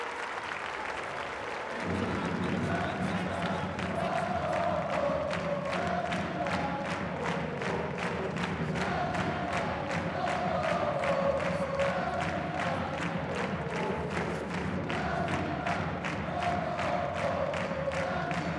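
A crowd at a J1 League championship celebration applauds and cheers for player Leandro Damião, breaking into sustained, steady rhythmic clapping with chanting voices beneath, distant and even throughout.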